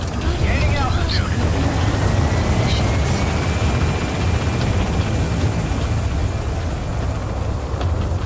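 The Pequod helicopter in Metal Gear Solid V rumbles with a loud, steady rotor and engine roar as it lifts off, a constant dense drone with radio voices talking over it.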